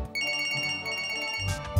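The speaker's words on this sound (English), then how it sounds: "Our video contains an unwanted sound, a ringing phone." A telephone rings with a bright electronic ringtone, a steady run of clear tones that breaks off near the end as a few short knocks and noises follow.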